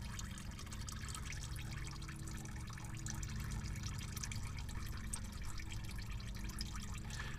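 Engine oil draining from a loosened oil filter on a 2011 Ford F-350, a faint steady trickle and patter of liquid running continuously without talk.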